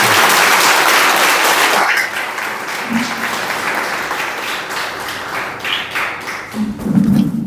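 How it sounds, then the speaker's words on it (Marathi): A crowd at a self-defense program for girls applauds loudly. The clapping fades after a couple of seconds to scattered claps and taps, and a few brief voices are heard. "अजून एकदा जोरदार टाळ्या वाजवा पूर्ण ताकदीने."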